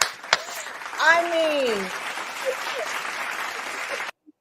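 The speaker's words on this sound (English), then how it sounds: "can you just give her a round of applause?" Someone speaks briefly before steady clapping rises in a radio show studio, a round of applause for Serena that holds at moderate level and then cuts off abruptly.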